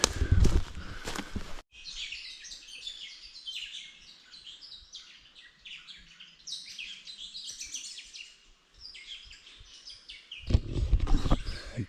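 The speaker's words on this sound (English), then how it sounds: "The birds are guiding me up the hill." Birds sing and chirp on a wooded hillside, with busy overlapping calls at moderate distance. Louder rustling and movement noise open and close the stretch.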